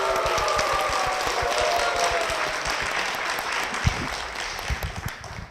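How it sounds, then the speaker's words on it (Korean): At Seongnam Jeil Church, a congregation claps together to welcome an elder to the front, a full, sustained applause that thins out and trails off into a few scattered claps. "박수로 모시겠습니다."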